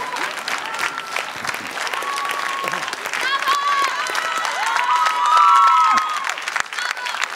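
A studio audience on an Armenian television dance show applauds a couple, with steady, sustained clapping that swells toward the end, scattered cheers, and a voice speaking over it.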